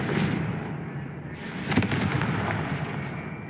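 Confringo spell explosion in the video game Hogwarts Legacy: a crackling, booming blast with fizzing sparks over a low rumble of ambient game sound, one sharper pop standing out mid-way.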